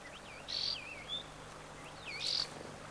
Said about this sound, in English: The desert lark is a local bird.